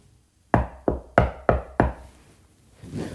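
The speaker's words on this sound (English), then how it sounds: "And then there's a knocking." Knocking on a door, five firm raps in an uneven rhythm, fairly close and loud, followed by a faint rustle.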